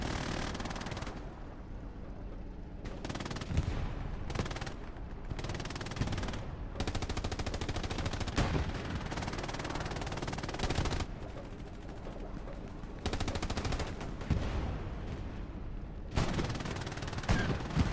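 Gunfire in the online war game Hell Let Loose, dense bursts of machine-gun fire and scattered shots rattling continuously, loud and close with short gaps between volleys.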